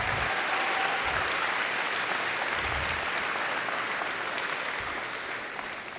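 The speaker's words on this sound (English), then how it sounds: "Can we give them a round of applause?" A high school senior awards ceremony audience gives a round of applause, with steady, full clapping from a large crowd that gradually thins toward the end.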